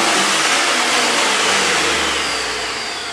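A 2001 Chevy Suburban 5.3 LS engine with 184K miles revs in a loud, steady roar that slowly tapers off over a few seconds, with no talking.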